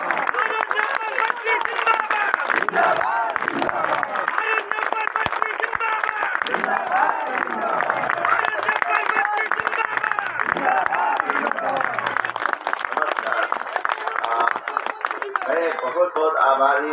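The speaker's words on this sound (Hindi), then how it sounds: "जोरदार जोरदार तालियां तब तक बजती रहे जब तक हमारे मुख्य अतिथि महोदय अपने मुखार बिंदु से शब्द हमारे लिए देंगे" An audience at a public gathering on the India–Nepal border claps steadily and loudly to welcome the chief guest, a continuous wash of applause with a voice speaking over it throughout.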